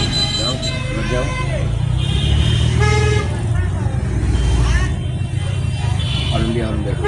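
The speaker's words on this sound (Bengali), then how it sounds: "হর্ন দিয়ে" Car horns honk in busy road traffic, with a cluster of short toots near the start and a few more later, all over steady engine rumble and nearby voices.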